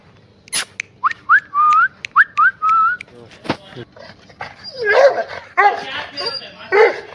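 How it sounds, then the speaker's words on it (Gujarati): Two dogs bark and yip repeatedly nearby, mixed with a person whistling short rising notes and people talking over the noise. "2 કૂતરા જે ક્યારના ભાંહે છે એ તમને બતાવું."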